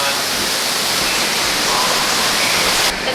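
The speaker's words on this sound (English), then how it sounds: "You guys got the waterfall going on." Steady broadband rush of an indoor waterfall in the Star Wars Rise of the Resistance queue, loud and continuous, with faint voices underneath.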